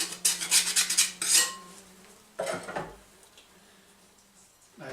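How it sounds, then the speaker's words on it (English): A metal blade scraping and clacking against a wooden beehive frame to loosen propolis while moving bees to a nuc, heard as a close burst of scraping at the start, then a shorter scrape and light knocks. "so I actually gotta scrape it out here. So I got a blade here to try to loosen that up."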